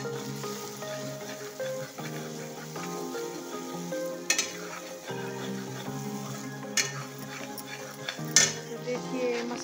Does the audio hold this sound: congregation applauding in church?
no